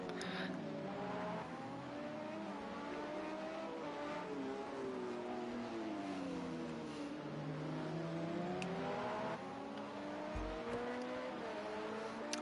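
LMP2 prototype race car engines whine and rise in sim racing at COTA, several cars overlapping in steady, layered pitches with shifts through gears, at a quiet level.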